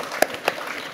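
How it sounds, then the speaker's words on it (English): An audience at an art gallery foundation event gives a short burst of applause, with two sharper claps standing out above the brief, moderately loud clatter. "Give that a clap."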